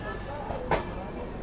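A Delhi–Mizoram Rajdhani express runs just after leaving Jamalpur railway station, heard as a steady low rumble with a couple of brief wheel clacks, fairly quiet and continuous.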